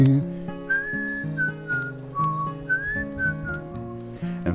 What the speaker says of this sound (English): I whistle now and then.